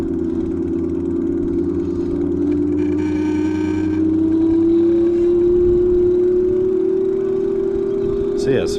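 An Electric Bike Company Model J electric motor labours up a steep hill, giving a steady, close hum whose pitch climbs slowly and evenly, with a low rumble of wind and road noise beneath it.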